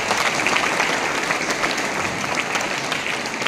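An audience at a ceremony honouring a guest claps loudly and steadily, a dense wash of many hands that holds at an even level from start to finish.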